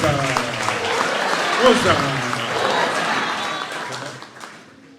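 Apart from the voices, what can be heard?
audience applause for the chairman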